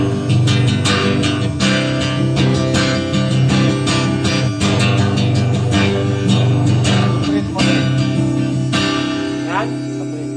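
Guitar on low action picked hard, a dense, ringing run of sustained notes with bright, buzzy attacks, played continuously and close for about ten seconds with no talking.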